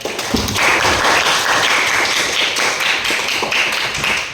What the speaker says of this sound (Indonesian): Jadi tepuk tangan untuk kita semua.